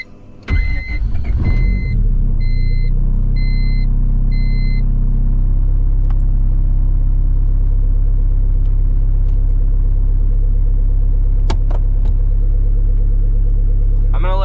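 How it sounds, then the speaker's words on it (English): A turbocharged Honda Civic cranks briefly and catches, then settles into a loud, steady, deep idle with a constant rumble, close up; a few faint clicks occur over the engine. "So let's get it fired up, get some heat in it, and go take it for a ride."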